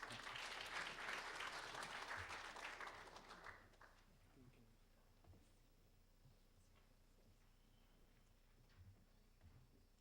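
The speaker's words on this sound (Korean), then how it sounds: "큰 박수로 환영해 주시기 바랍니다." An audience at a 2015 international pedestrian-safety seminar gives a keynote speaker a dense round of applause that fades out after about four seconds, leaving quiet room tone with faint shuffles.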